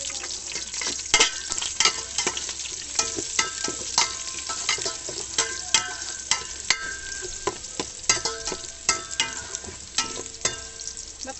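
Onions fry in a pan for lomi, a steady close sizzle punctuated by many sharp clicks and scrapes of a stirring utensil, with no talking.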